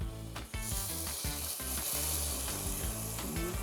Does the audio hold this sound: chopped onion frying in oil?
yes